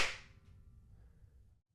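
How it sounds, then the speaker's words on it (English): A single balloon pop cracks sharply, then a long reverberant tail lingers and fades, captured as an impulse response for building custom reverb. "Here is the balloon pop"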